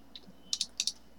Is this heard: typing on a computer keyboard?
yes